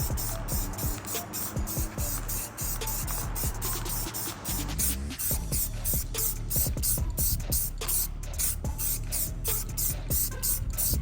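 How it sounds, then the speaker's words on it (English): Orange spray paint hisses from an aerosol can onto a toy figure in close, repeated bursts, with short gaps and small handling clicks between sprays. "I'm gonna paint him with some extra orange spray paint that I found in my shed"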